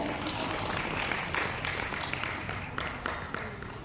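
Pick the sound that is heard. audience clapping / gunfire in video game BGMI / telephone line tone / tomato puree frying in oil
audience clapping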